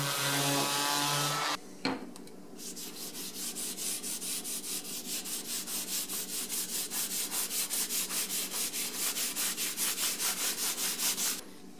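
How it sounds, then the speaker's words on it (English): Steady back-and-forth sanding across a CNC-carved wooden sign to remove dried Rustoleum paint, loud, close and rhythmic strokes following a short burst of spray at the start. "now that it's dry, we're going to sand off the top of it."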